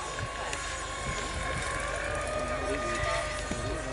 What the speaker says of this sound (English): The B2 just taking off.